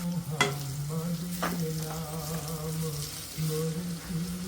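Onions frying in hot oil for a mutton liver masala, a steady close sizzle with a few sharp spoon clinks and stirring scrapes on top, no talking.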